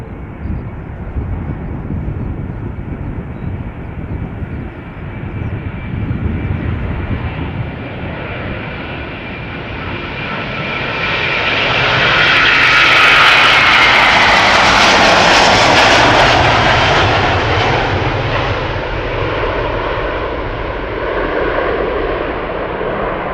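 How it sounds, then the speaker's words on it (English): A Delta Airlines Airbus A330-300, sixteen years old, takes off at Schiphol Airport, its jet engine roar building from a steady rumble to a loud peak midway, then holding strong as it climbs away. "Delta Airlines, flight 133 going to Detroit, Michigan coming up. An Airbus A330-300, 16 years old."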